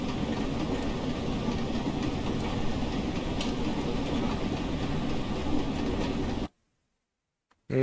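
An LMS Stanier 8F steam locomotive in Train Simulator rolls along with a steady, dense mechanical rumble, then cuts abruptly to near silence before a brief burst returns at the very end.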